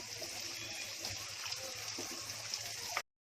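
Water pours steadily into rice in a cooking pot for prawn pulao, a continuous soft stream and trickle up close that stops abruptly.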